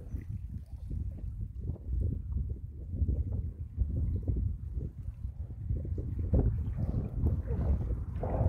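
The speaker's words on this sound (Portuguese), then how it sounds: "Tá ventando muito" Strong wind buffets the microphone at a riverside fishing spot, a steady low roar of gusts rising and falling throughout with no talk.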